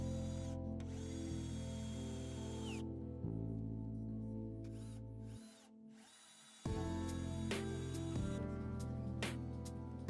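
A power drill drives screws into wooden pillars of a DIY summer house, fixing steel angles and flat steel connectors, heard as loud sustained whirring bursts that stop and restart with ratcheting clicks and a brief quieter gap in the middle.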